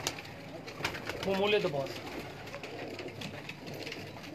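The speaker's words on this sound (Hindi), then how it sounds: "ये देखिए दोस्तों माशाल्लाह बहुत ही ब्रांड कबूतर" Breeder pigeons in Lahor's Delhi Gate area coo softly in a short burst amid a low background hum, while someone speaks briefly nearby.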